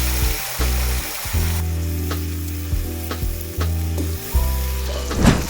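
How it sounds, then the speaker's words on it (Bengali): Onion, garlic and ginger paste mixed with yogurt and spices frying in hot oil for a Bengali rohu fish kalia: a loud, close sizzle with periodic spatula scrapes and a steady low hum beneath, without speech. "মশলাটাকে আমরা তেলের মধ্যে দিয়ে নিচ্ছি।"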